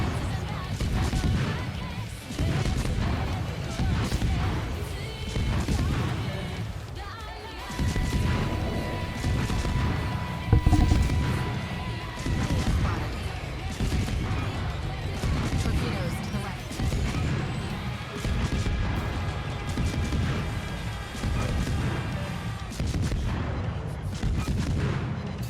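Ship guns firing in World of Warships during a naval battle, a steady series of heavy booming salvos every second or two over continuous rumbling background noise and sea ambience.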